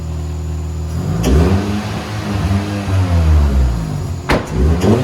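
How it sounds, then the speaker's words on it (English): Car engine revved hard in repeated bursts in a garage build setting, loud and close, with sharp blips between sustained revs. "Hey, Levi, come rev it up for the viewers."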